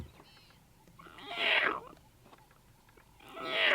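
A safari guide's voice imitates a cub's meow to call lion cubs, two drawn-out whining calls at moderate loudness with quiet pauses between.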